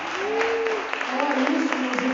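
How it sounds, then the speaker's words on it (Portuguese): Applause from a church congregation at a Sunday service fills the space steadily for a couple of seconds, with a sustained tone and voices rising over the clapping. "vamos aplaudir a Senhor"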